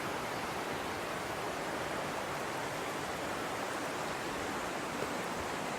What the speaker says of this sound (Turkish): Yanında dere akıyor.